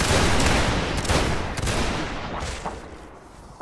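Musket volley in a Napoleonic-style line battle video game: a loud crackling burst of many overlapping shots that rolls on and fades over several seconds, with scattered later pops and no talk.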